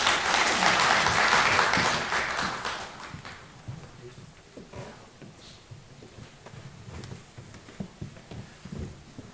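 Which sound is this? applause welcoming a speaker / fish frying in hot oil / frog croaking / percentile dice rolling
applause welcoming a speaker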